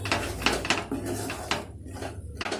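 Spoon scraping and knocking against a pan while a sweetened pea filling with a little turmeric is stirred, giving a run of close, irregular clinks and scrapes over a steady background hum.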